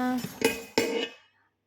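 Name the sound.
handling a new 5 litre cooking pot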